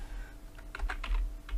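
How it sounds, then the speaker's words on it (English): Quick, faint keystrokes on a computer keyboard tap out a short word in a soft, close burst against a low background hum. "we're going to type in the word custom"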